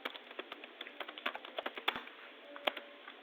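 Steady typing on a computer keyboard during climate data processing work: a run of quick, light, close key clicks with an uneven rhythm, fairly quiet and with no voices.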